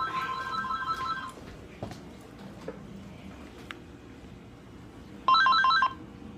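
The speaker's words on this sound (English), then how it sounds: "Oh no, my house phone's ringing." A house phone rings in two electronic trill bursts, one at the start and one near the end, with quiet room noise and small clicks between.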